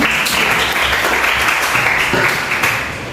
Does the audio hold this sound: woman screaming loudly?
no